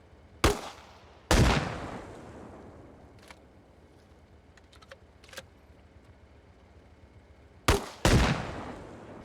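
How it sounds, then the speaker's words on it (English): Six 40mm HE grenades fired at a BTR in Arma Reforger, arriving as sharp blasts in spaced pairs, each loud crack trailing off into a decaying rumble, with faint clicks in the quiet gap between. "We'll start with the HE rounds, and we'll fire 2 at the front, 2 at the side, and 2 at the rear"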